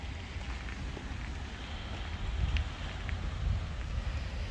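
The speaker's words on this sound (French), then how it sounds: "C'est rare quand même que je filme la pluie." Steady rain falling outdoors makes a constant soft hiss, with low wind rumble against the microphone and a few faint drip ticks.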